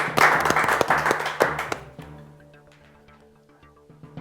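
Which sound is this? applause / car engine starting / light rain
applause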